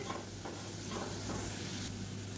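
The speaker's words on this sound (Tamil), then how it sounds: "அப்பப்போ நல்லா கிளறி விட்டு நல்லா ரோஸ்ட் ஆகி வர அளவுக்கு கிளறி விட்டுக்கலாம்" Varuval roasts over a low flame in a pan, giving a steady, soft, continuous sizzle with faint scraping as it is stirred, quiet and uninterrupted.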